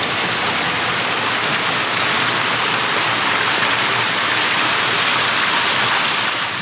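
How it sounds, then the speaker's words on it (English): Water pours steadily over the creek cascades near Oxford Falls, a dense, continuous broadband rush that stays close and even throughout with no voices. "This is supposed to be just the Cascades here."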